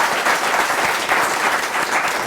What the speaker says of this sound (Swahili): wapi makofi ya Edwin Sifuna?